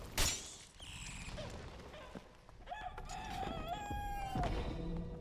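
Chicken in a medieval combat video game crowing and clucking, a loud rooster crow rising over the second half amid game noise and thumps, with no talk.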